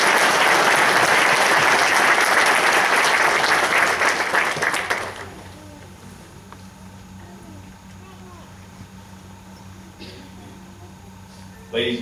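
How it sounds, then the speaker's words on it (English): A crowd applauds graduates at a military battalion graduation ceremony, dense loud clapping from many hands that holds for about five seconds and then stops abruptly, leaving a quiet room with faint background noise. "Let's give these well-deserving graduates a round of applause."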